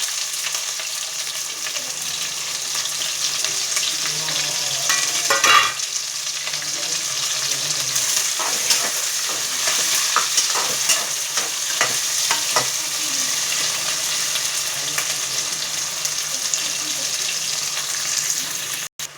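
Cumin, mustard seeds, urad dal, green chilies and onion pieces tempering in hot oil for kichidi: a steady, close, loud sizzle with occasional stirring scrapes and crackles throughout.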